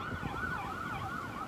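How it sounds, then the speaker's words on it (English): An ambulance siren passes through a city street, a loud, fast yelping warble that repeats rhythmically and stays close with traffic rumble underneath. "Ambulance."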